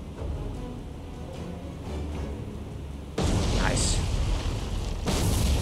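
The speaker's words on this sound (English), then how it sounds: "Nice secondary explosion." Torpedo hits in the naval game War on the Sea, Dutch East Indies campaign: a continuous low rumble that jumps abruptly into a loud, sustained explosive roar, then swells again near the end, with a voice heard.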